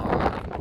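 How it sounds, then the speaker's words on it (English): Gusty Utah wind buffets the microphone in a brief, rough roar of broadband noise, with no speech. "It is so windy."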